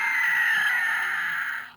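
A Transformers Armada Laserbeak toy plays its electronic bird-mode effect, a loud steady screeching caw-like tone held for nearly two seconds before cutting off.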